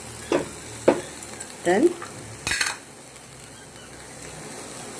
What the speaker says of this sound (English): Now onion and tomato is mixed and cooked